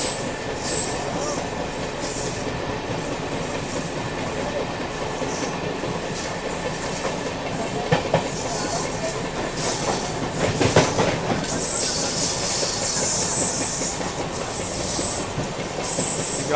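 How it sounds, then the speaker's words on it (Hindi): A local train runs alongside and overtakes the Mahamana Express on the approach to Ghaziabad. Steady, close rolling rumble with rail clatter and brief metallic wheel squeals throughout, no voices. "लोकल ट्रेन देखो यहाँ पे आगे निकलते हुए"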